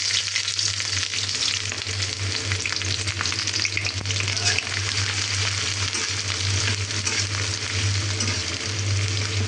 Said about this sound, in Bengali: তেলটা গরম হয়ে গেছে, এবারে পেঁয়াজ রসুন এবং কাঁচামরিচ দিয়ে দিব।